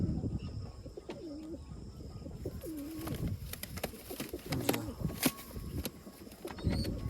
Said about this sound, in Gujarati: આમાં પણ એક કબૂતર થોડું ઘણું છે ને બીમાર હોય એવું લાગે છે